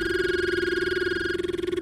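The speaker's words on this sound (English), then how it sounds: "The phone is ringing." A steady electronic phone ring sounds in a horror fan game set in an animatronic repair shift, one sustained ringing tone with no talk over it that cuts off abruptly near the end.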